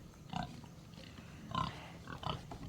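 Large feeder pigs grunt in a farm pen, a few low, rough snorts spaced out over a couple of seconds against quiet background noise.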